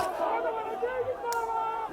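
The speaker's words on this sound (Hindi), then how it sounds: "कुछ नारेबाजी तो हो रही है वहां पर" A crowd at a protest sit-in site chants slogans, with several voices rising and falling together at a steady mid distance and a continuous murmur of people underneath.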